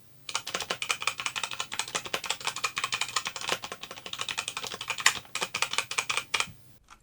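Rapid clicking from a particularly loud computer keyboard, captured through a Fifine Ampligame AM8 dynamic USB microphone, runs steadily for nearly seven seconds with a few sharper keystrokes standing out and no voices.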